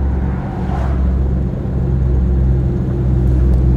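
A 1935 Horch 850 Sport engine pulls steadily up a hill in fourth gear, a loud continuous low rumble with a slight rise in strain, heard from inside the car with no talk.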